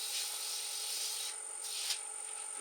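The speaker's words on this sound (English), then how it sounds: "This will be the only time I'm pretty sure that we're going to use the sandpaper." Sandpaper rubs across wood coated with a first layer of CA glue finish, making a soft, steady scratchy hiss with a few gentle strokes, faint and close over a constant background hum.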